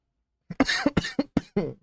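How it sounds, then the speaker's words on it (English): One person coughs in a quick burst of about six harsh, close coughs following a brief silence. "I don't know why I'm coughing so much."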